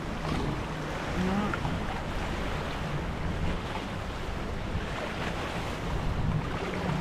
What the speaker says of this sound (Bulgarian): Дали се чува добре, защото има ветрец.